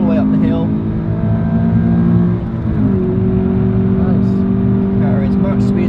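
Subaru BRZ or Alfa Romeo 4C engine pulling hard at full throttle on a race track, a loud, steady drone that climbs in pitch through a gear, with a brief drop at the shift and continuous wind and road noise.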